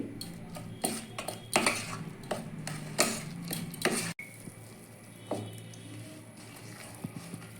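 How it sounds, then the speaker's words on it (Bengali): A spoon scrapes and clinks against a bowl while flour is mixed, giving a run of sharp metallic taps and stirring scrapes in the first half, then quieter scattered clicks after a brief cut. "এবার আমি এটাকে ভালো করে মিশিয়ে নেব চামচ দিয়ে"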